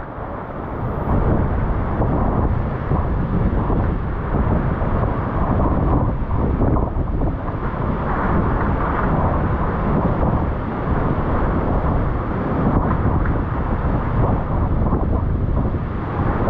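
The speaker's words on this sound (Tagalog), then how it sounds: "Oh, lalong lumakas ang habagat." Strong monsoon wind roars continuously into the microphone, a dense, buffeting rush that stays loud and unbroken for the whole stretch.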